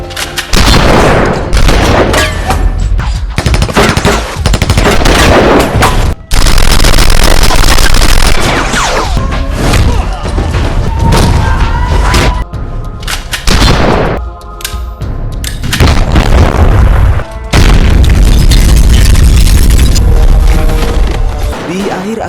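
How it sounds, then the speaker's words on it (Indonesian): Loud gunfire from a film shootout between gangsters and police, with dense bursts of shots and booms that are repeatedly cut off by abrupt silences. "terjadilah baku tembak di tempat tersebut"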